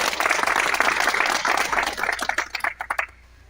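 Sustained clapping from a crowd at an Ambazonia Independence Day celebration, loud and even at first, then breaking into sparse individual claps and fading out.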